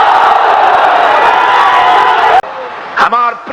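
A large crowd at an Islamic rally roars a Nara-e-Takbir slogan chant in unison, loud and sustained for a couple of seconds, then cuts off before a voice rises briefly over the lull.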